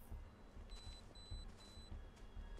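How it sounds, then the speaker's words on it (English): An electronic alarm sounds in the video game Spider-Man PS4, a faint, repeated pair of high beeps in an even pulse over low rumbling game ambience. "Okay, that's the alarm right there,"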